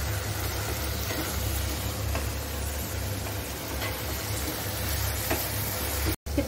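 Masala sizzling in a pan over a high flame, a steady close hiss of frying with a low rumble underneath, continuous throughout and interrupted only by a brief dropout near the end.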